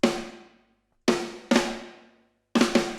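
Programmed MIDI drums hit on every other eighth note, a sparse pattern of ringing, decaying strikes separated by short gaps, with a quick double hit near the end, heard alone and close.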